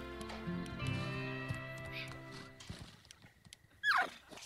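A newborn Kelpie foal in the Sims 4 life-simulation game gives a short high whinny near the end, following a stretch of game music with soft clip-clop hoof sounds.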